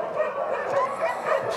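Dogs bark and yip at an animal shelter, a continuous overlapping chorus of several voices at moderate distance.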